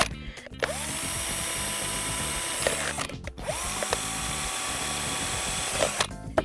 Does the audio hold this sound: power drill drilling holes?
yes